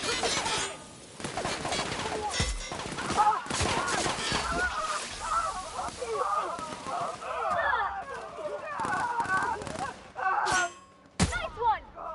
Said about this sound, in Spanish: ¿Por qué me están disparando?